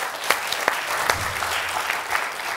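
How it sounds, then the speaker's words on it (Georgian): A studio audience at a comedy game show bursts into steady, close applause, dense clapping filling the moment without voices. "აპლოდისმენტები."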